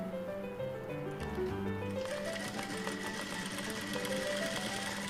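A sewing machine joins a blouse neck cross piece with a close, steady motor hum and rapid needle chatter that picks up speed partway through, running continuously with no talking.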